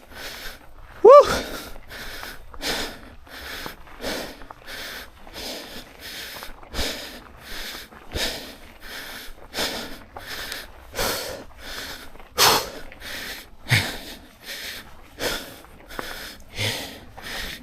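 Heavy, rhythmic breathing close to the microphone after a downhill trail ride, steady panting huffs repeating about once a second with a brief vocal squeal near the start.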